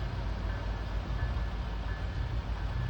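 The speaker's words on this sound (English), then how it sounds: "The engine is accelerating." MBTA F40PH-3C diesel locomotive pulling out of Needham Center station as its engine accelerates, a steady heavy low rumble with broad noise and a faint constant whine, loud and close throughout.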